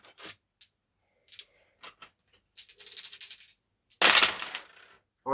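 Four dice rattle and tumble across a table during a round of the tabletop game Warhammer Underworlds, a series of close, sharp clatters ending in a louder final spill.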